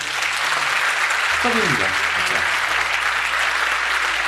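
A studio audience breaks into sustained, even applause at an investment counseling session, the clapping dense and continuous throughout while a voice briefly speaks over it.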